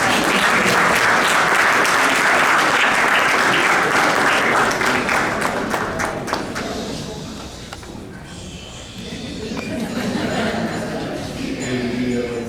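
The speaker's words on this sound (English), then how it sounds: "Please give him a round of applause." Dense applause from a large audience at an awards gala, loud and sustained, thinning and dipping partway through before swelling again, with crowd murmur and some voices underneath.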